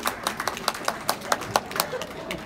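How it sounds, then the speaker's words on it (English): Audience at a veterans' medical center town hall clapping, a sparse run of distinct hand claps, fairly faint and fading in a large room. "After that rousing applause."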